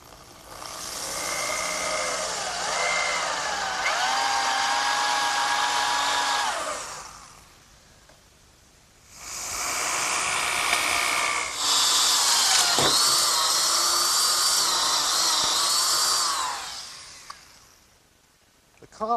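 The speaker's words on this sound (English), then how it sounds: "I'm ready to drill a hole through the 2x4 in oak for my bench screw. And I'll do that with an 1 3/8" bit" A power drill with a 1 3/8 inch bit bores through an oak 2x4, two long loud whining runs with the pitch shifting under load and a short quiet gap between them.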